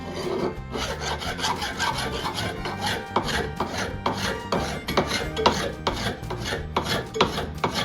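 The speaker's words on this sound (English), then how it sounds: "Okay, we got a lot of filing to do." Hand file rasping across a wooden Mandalorian rifle prop in a woodshop, with steady, close back-and-forth strokes that continue without pause and no talking.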